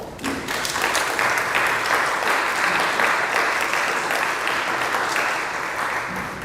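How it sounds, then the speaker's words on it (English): Audience applause at a founders' summer showcase event for an African impact initiative, many people clapping in a steady, full burst that swells briefly and then holds before tapering slightly. "Please round of applause today."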